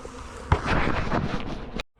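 Honey bees swarm around a hive during a nucleus colony transfer, a dense steady buzz rising abruptly and holding loud and close for over a second before cutting off, with some wind rumble underneath.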